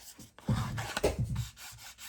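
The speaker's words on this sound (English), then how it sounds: "I'm just gonna rub the edge here" The edge of a scrap circuit board is rubbed, giving a close, gritty scraping sound in several short uneven strokes, moderately loud, with no talking.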